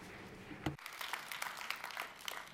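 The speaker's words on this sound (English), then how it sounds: "Everyone, a round of applause, please." Applause from the audience at a media prize award ceremony as the first award winner comes on stage, a dense steady patter of clapping after one sharp louder sound.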